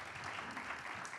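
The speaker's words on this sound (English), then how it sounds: "One more round of applause." Brief, faint applause from a conference audience in Brussels, a short soft patter of clapping.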